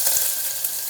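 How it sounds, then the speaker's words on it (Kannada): Chopped onions frying in a pan for a pulao: a brief, steady sizzle close by with a faint crackle and no voices. "ಆನಿಯನ್ ಹೀಗೆ ಫ್ರೈ ಮಾಡ್ಕೊಳ್ರಿ."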